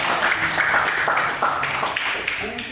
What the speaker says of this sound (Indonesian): Oke, tepuk tangan untuk Pak Fer.